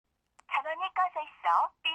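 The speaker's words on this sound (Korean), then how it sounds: "나는 사장의 번호로 전화를 걸었다." A telephone number keyed in during a Korean mystery-thriller audio drama, a quick series of electronic tones in short bursts, close and clean against silence.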